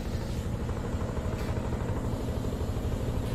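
A helicopter's low, throbbing rotor drone holds steady and loud throughout, with no voices over it.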